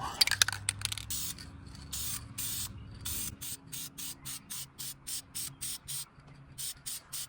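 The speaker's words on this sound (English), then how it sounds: "We're painting brake calipers." Aerosol spray paint being applied to brake calipers in repeated short bursts, a steady hiss at first and then a regular rhythm of separate sprays, close and fairly loud with no talking.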